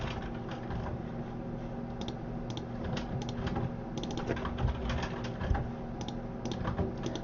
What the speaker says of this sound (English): So you just type some notes about each